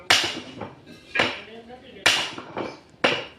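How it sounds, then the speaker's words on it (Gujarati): Sharp metallic hammer blows knock out a vehicle jack during a car repair, about six loud, close strikes at an uneven pace, each ringing briefly before the next. "હથોડા મારી રહ્યા છે"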